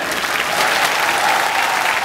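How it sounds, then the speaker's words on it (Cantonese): Steady applause from a crowd, continuous and fairly loud throughout, with no talking over it. "我哋再俾多次掌聲佢哋"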